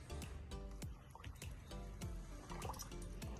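Water running and dripping into a flask while brine for injecting meat is mixed, with a string of splashy drips and gurgles, close and fairly quiet.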